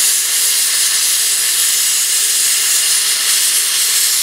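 A track torch cutting machine on a line burner slices through steel to make weld bend coupons, giving a loud, steady hissing roar that holds unbroken throughout.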